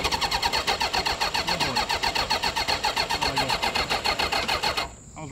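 A 750cc cross kart engine cranks over and over without catching, a fast, even, rhythmic churning of the starter that runs close and loud for several seconds before cutting off abruptly near the end.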